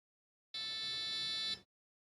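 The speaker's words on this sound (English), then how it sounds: "it only beeps once when resetting the board" A single steady electronic beep of about a second from a buzzer on an Arduino UNO learning shield, bright and tonal, starting and stopping abruptly against silence.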